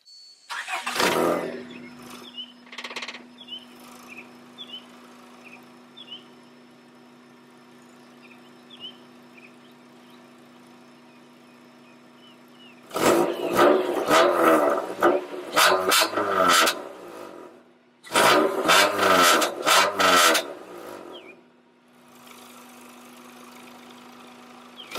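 A car with aftermarket exhaust tips cranks to life with a loud burst, settles into a steady low idle, then gets two long revving surges before dropping back to idle, heard close up.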